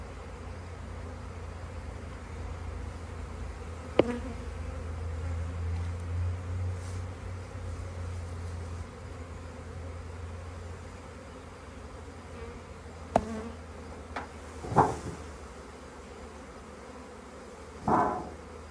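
Honeybee swarm buzzing near a hive during swarming, a faint continuous drone with scattered louder passes and taps, no voices.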